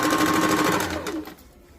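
A sewing machine stitches a fold on a katori cut blouse in a brief, steady mechanical whir that runs for about a second before fading out, close and clear with no talking.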